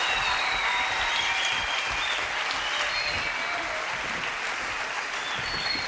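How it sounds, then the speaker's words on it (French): A studio audience on a French television show applauds a professor, the clapping dense, loud and sustained from start to finish with no talk over it. "Applaudissements pour le professeur."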